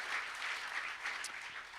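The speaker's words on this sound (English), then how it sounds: "let's give them a big round of applause" An audience at a 2019 hackathon closing ceremony claps in steady, dense applause, faint and distant, with no voices over it.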